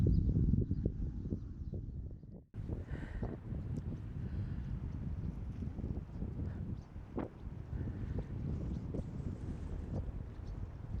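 Faint, steady wind buffeting outdoors at Barfleur on the French coast, a low rumbling gust with a brief lull midway, no one speaking.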